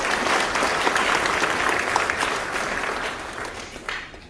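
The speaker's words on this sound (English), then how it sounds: "Please give yourselves a round of applause." Audience applause at a Guyanese political gathering for President Irfaan Ali, a steady dense wash of many hands clapping throughout, loud and close, tapering slightly toward the end.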